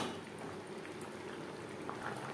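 Lata fish with mankochu (taro root) simmering in gravy in a pot, a steady soft bubbling and gentle hiss that carries evenly throughout, with no talking.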